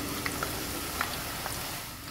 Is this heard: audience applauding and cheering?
no